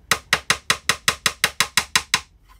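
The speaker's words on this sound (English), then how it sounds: "what I tend to do is just tap it further down with a bit of a hammer" A small hammer taps a pin down into the wooden hull of a Sovereign of the Seas model ship kit, about ten evenly spaced light, sharp knocks in quick succession, close and clear with no talk.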